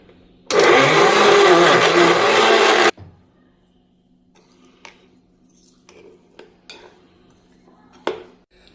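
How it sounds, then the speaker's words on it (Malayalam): A kitchen blender whirs loudly for about two and a half seconds, grinding peanuts with cubes of butter for peanut butter, then cuts off, leaving faint clinks and taps of utensils and the jar. "ഇനി ഇത് ബ്ലെൻഡ് ചെയ്യാം"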